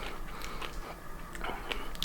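Someone bites and chews homemade tortoise gel super food that has a slightly crunchy texture, giving close, soft crunching and mastication sounds at a steady, uneven pace, heard alone without talk.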